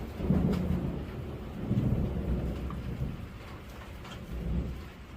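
Steady rain patters on surfaces while low rumbles of thunder roll in repeatedly, distant and muffled, with no voices over the storm.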